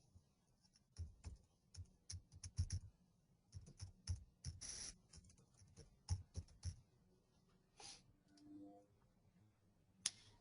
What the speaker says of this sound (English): So let me just type that in for you.